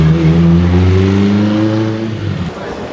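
A chrome red Bentley Flying Spur's engine hums and revs loudly up close on a London street, holding a low steady drone that eases off toward the end.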